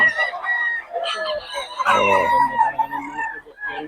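Gamefowl roosters in Bocaue crow in long, strained cock-a-doodle-doo calls mixed with clucking, close and loud, several birds overlapping in a farmyard.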